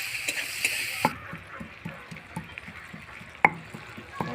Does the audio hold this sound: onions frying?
yes